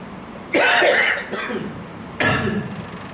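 Two harsh coughs close to the microphone, the first longer and rougher, the second short, separated by a brief pause.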